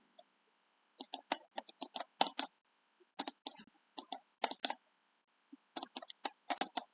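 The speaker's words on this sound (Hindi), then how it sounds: "यहाँ से राइट क्लिक करके" Computer mouse clicking in bursts while setting up data grouping in an Excel pivot table, with quick crisp clicks in clustered runs separated by short pauses, close and fairly quiet with no talking.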